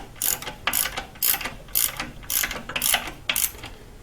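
A ratchet tightens the lock bolt on a Subaru Forester: seven evenly spaced bursts of rapid clicking, close and clear, each a short pawl rattle with brief pauses between.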